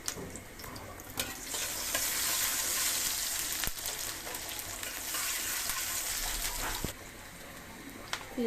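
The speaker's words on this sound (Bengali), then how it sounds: "পেঁয়াজগুলো ভাজা হয়েছে" Onions fry in mustard oil in a pan, a continuous close sizzle with occasional sharp clicks and scrapes from stirring, steady throughout and easing off toward the end.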